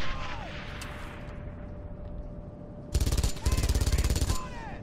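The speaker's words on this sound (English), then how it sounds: "you're totally pouring on the gunfire there" Gunfire in the video game Battlefield, loud rapid bursts of automatic fire in two close strings near the end, after a quieter stretch of ambient noise.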